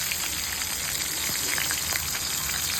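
Chopped green chillies and curry leaves frying in hot oil in a pan for poha, a loud steady close sizzle with crackling pops and no talk.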